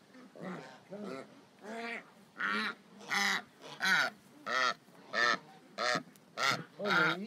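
A small duck lets out a run of about eleven loud, close quacks in a steady, evenly spaced rhythm, each one a short nasal burst.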